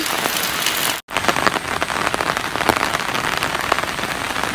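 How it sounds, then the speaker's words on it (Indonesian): Heavy, steady rain falls continuously on surfaces outdoors early in the morning after a night of downpour, a dense close hiss with scattered drop impacts and a brief cutout near the one-second mark. "Hujan sangat deras, guys."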